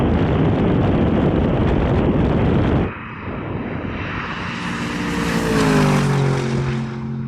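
An Aston Martin DBX 707 and a Lamborghini Urus tear past in a drag race, a loud steady roar giving way to a rising, whining engine note as one SUV pulls away.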